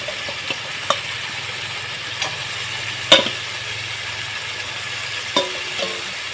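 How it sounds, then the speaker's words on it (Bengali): Fried capsicum and potato cook with spices in a pan, a steady low sizzle broken by occasional clicks and scrapes of a spatula against the metal. "দিয়ে আমি মশলার সাথে ভালোভাবে কষিয়ে নেব"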